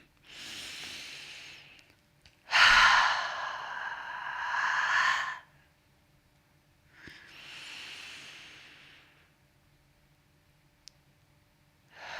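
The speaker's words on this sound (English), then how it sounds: "Take a deep breath." A person takes slow, deep breaths close to the microphone: a soft inhale, a louder drawn-out breath, and a third gentle breath, separated by quiet pauses with no talking.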